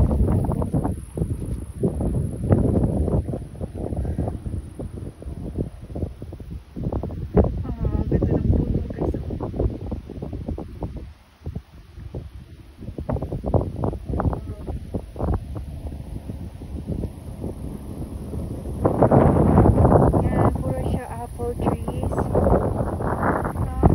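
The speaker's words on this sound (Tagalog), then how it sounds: "Uy, ang lakas ng hangin." Strong gusting wind buffets the microphone on a hike along the Krückau river near Elmshorn, a continuous low rumble with irregular surges that grows heavier toward the end.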